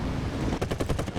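Aircraft machine guns firing in War Thunder air battles: a quick rhythmic burst of about six sharp rattling shots over steady engine drone, close and fairly loud.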